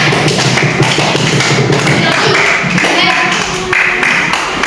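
Classroom audience clapping for a student group after their presentation, a dense steady patter of many hands with thumps and taps mixed in, fairly loud and continuous throughout.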